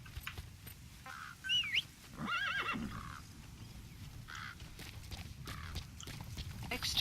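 A horse in the Metal Gear Solid V video game whinnies once, loud and close, amid faint hoofbeats and game ambience, with a voice talking over parts of it.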